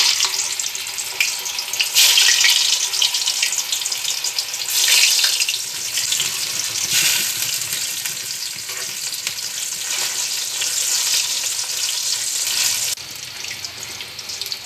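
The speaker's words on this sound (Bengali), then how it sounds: "তেল গরম হয়ে গেছে, এখন আমি ধোকাগুলো ভেজে নেব" Dhoka lentil cakes frying in hot oil, a loud, close, continuous sizzle that surges and eases in waves as the pieces bubble, with no voices.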